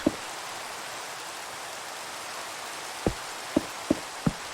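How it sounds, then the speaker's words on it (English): Steady rain falling in a Minecraft world, a constant soft hiss broken by a few sharp, distinct drop-like taps. "the rain can go away now."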